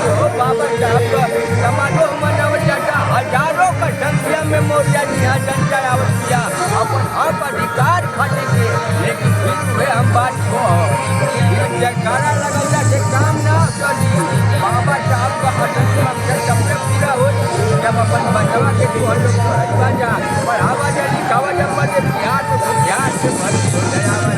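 A huge crowd gathered at a Dr. Ambedkar rally and conference gives off a loud, dense babble of many voices that runs without break from start to finish.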